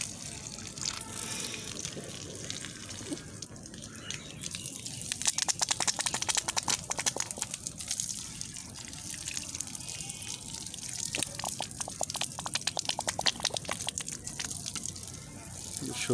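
Water trickles and splashes from the outlet of a homemade 12 volt water pump used to water a vegetable garden, a continuous wet gurgle with drips, fairly close and moderately loud.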